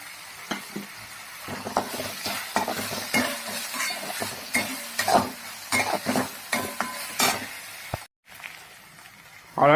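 Moong dal and chopped spring onion leaves sizzle in a hot pan while a spoon stirs and scrapes them in repeated close strokes, with a brief silent gap near the end.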